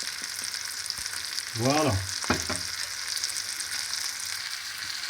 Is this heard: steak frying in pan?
yes